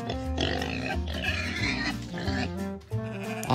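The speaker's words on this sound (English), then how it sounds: "The pigs too, enjoying the slum." Pigs on a farm grunt and squeal repeatedly, a dense, busy chorus of close oinks with overlapping calls throughout and no voices.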